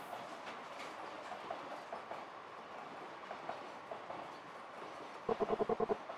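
A train in the video game Eastward rolls along with a continuous rumbling clatter, ending in a brisk run of sharp, evenly spaced clickety-clack beats near the close.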